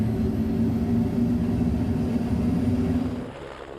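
Helicopter on a flight over the outlying areas around Stokes Point, heard from inside as a steady low droning rumble that fades near the end.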